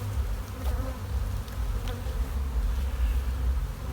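Honey bees buzzing in a hive box, a steady low, dense hum that holds evenly throughout at moderate level, with no voices.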